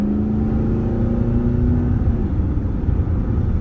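A supercar's engine revs up hard in automatic mode, its rising note dropping briefly as the gearbox shifts near the two-second mark before it pulls on again. The sound is loud, close and continuous, with no voices over it.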